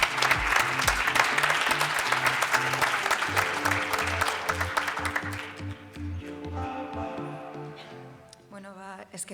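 Applause from an audience at a research and innovation award ceremony, a dense patter of clapping that thins and fades out over several seconds, with music or tones sounding underneath.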